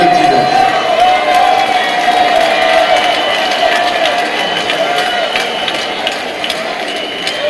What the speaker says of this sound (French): Alassane Ouattara sera fortement ovationné par la foule qui lui manifeste toute sa sympathie